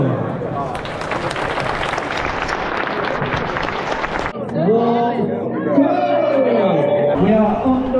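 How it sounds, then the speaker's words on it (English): A large crowd of runners and spectrators gives a minute of sustained, dense applause before the start of the Hull 10K 2024 road race. The clapping ends abruptly after about four seconds, and music with some voices follows. "a minute's applause, a moment to celebrate the life of Rob Burrow"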